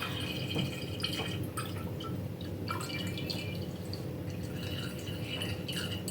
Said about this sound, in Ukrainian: А тепер буду наливати у банки смолець.